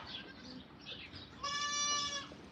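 A young goat kid rejected by its mother bleats loudly and steadily in a farm setting, a sustained nasal cry over low background noise.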